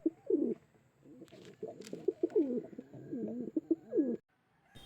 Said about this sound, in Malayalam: നമുക്ക് അടുത്തും കുറച്ച് പ്രാവുകളാണ് വന്നിരിക്കുന്നത്